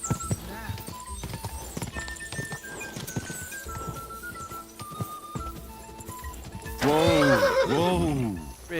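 A horse in Kingdom Come Deliverance 2 trots with hoof clops under game music and a voice, then lets out a loud, drawn-out neigh near the end.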